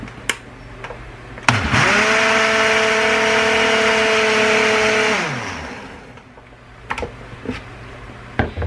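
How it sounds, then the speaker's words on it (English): A Ninja blender whirs up to speed and runs loud and steady for about three seconds while blending a sugar-free mock frappuccino coffee drink, then winds down, with a few clicks and knocks before and after. "I'm going to blend this up and have our little mock frappuccino"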